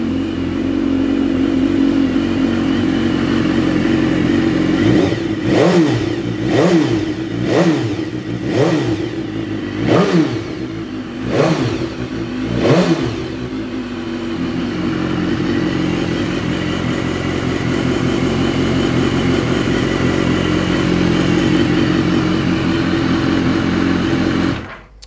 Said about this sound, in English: So next up is we'll do a quick start up of this bike.